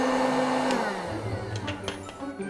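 Loud, steady whooshing roar of a hot air popcorn maker running up close, with a shifting whine and occasional faint rattles.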